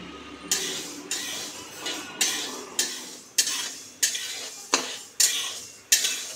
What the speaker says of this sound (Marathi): तर यातली अर्धी बाजरी मी आता कढईत घेतली आहे आणि ती आता मी भाजणार आहे